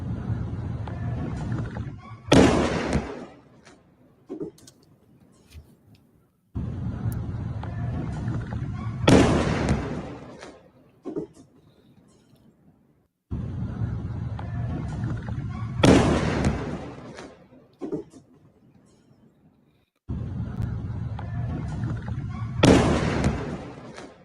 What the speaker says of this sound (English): This looks like a very extremely fast, like a Mach 20 maybe, missile landing in the north of Israel.